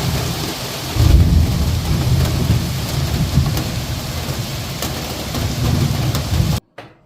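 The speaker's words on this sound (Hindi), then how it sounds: "अभी इस टाइम पे कोलकाता में ऐसी ही बारिश हो रही है।" Heavy rain pours down in Kolkata in a dense, continuous roar, with deep rumbling thunder swelling underneath before the sound cuts out abruptly.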